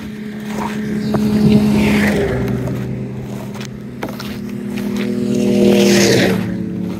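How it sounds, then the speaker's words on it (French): Several snowmobiles idle and rev nearby in a snowy forest, a steady engine drone with rising and falling throttle swells, loud and close throughout. "il y a du skidoo ici, les amis"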